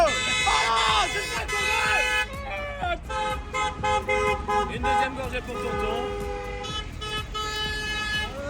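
Vehicle horns toot in bursts around a roundabout, a chorus of sustained and short honks of different pitches, close and loud, while someone talks over them.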